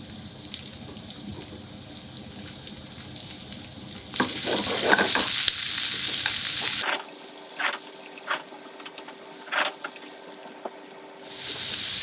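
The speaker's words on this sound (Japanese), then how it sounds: "フライパンが温まってきたら玉ねぎから炒めていきます。" Onions sizzle in olive oil with garlic in a heated frying pan, growing louder midway, with stirring scrapes and crackling over a steady fry.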